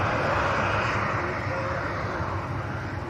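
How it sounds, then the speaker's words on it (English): A Boeing 757 in holiday livery flies overhead, a loud, continuous jet roar with a broad engine hum that eases slightly toward the end. "There's a little bit of 757 loveliness coming over here. It's in the holidays livery."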